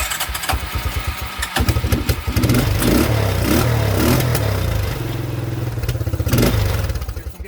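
A 1987 Suzuki Quadrunner 250 LT 4WD ATV engine catches and revs under throttle, a loud rough clattering idle rising and falling for several seconds, with a brief faint voice in the background.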